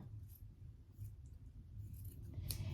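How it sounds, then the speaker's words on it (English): Scissors snipping through the material of a Nike Air Force 1 sneaker, quiet close snips with a sharper cut near the end, no voices. "You're gonna take your scissors and you're gonna cut right here."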